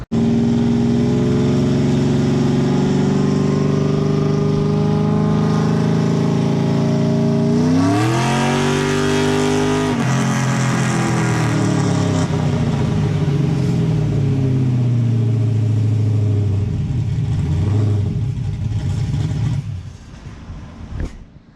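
A car engine on a dyno pull drones loudly and steadily for many seconds, pitch rising through gears with a brief shift dip, then winding down and fading at the end; no voices.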